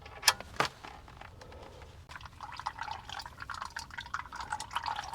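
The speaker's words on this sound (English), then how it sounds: "while that is all draining out" Engine oil trickles and drips steadily from a badly leaking car oil pan, a faint, continuous liquid pour with small splashes, after a couple of brief clanks at the start.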